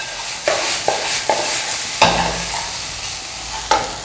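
Potatoes tossed with spices in a sizzling pan: a constant frying hiss with several distinct spoon scrapes and knocks at irregular intervals, close and clear, no speech.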